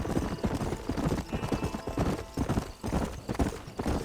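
Horse hooves trotting in the Red Dead Redemption video game, a quick, steady clip-clop rhythm close up and loud, carrying on throughout with no talk over it.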